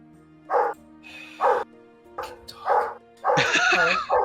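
Dog barking in short, loud bursts, about four separate barks spaced unevenly, heard alone in a tabletop role-playing game session with no talk over them.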